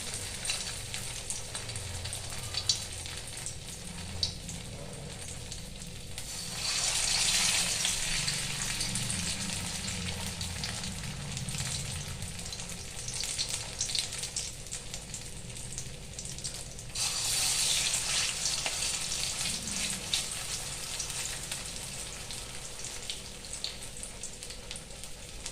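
Round balls of mashed potato mixed with dried red chilli and salt fry in hot oil, a continuous close sizzle that swells into two louder bursts of crackling hiss, with faint bubbling between.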